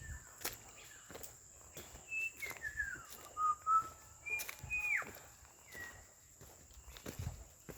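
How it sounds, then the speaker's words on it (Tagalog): Small birds sing out in the mountains of Rizal, giving thin, faint whistled calls and rising notes at a distance. Occasional footsteps and light rustles sound close by, and the surroundings are otherwise quiet. "Puro huni lang ng ibon marinig."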